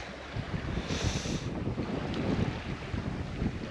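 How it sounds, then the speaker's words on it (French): Strong wind buffeting the microphone aboard a sailing boat, a constant low roar with rushing water beneath it, no voices. "on a touché un peu de vent"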